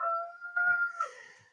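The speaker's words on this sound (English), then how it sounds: "that's my rooster. If you heard it" A rooster crows once in the background, a drawn-out tonal call with a strained, wavering finish, moderately loud and heard alone with no talk.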